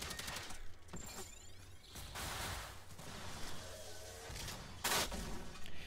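Weapons from the US weapons pack fire in Generation Zero, with bursts of gunfire, metallic impacts and a sharp crack near the end over a busy game soundscape.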